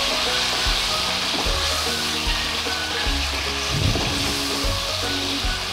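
Marinated chicken, in small boneless pieces, sizzles and fries steadily in a hot pan for a spicy noodle dish, with a continuous loud crackle and occasional stirring scrapes and no talking.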